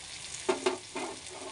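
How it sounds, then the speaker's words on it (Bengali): Green chilies dropped into hot oil with ginger and spices while cooking pabda fish curry, giving two sharp sizzling bursts followed by a steady close frying crackle, no talking. "এবার দিয়ে দিচ্ছি কাঁচা লঙ্কা,"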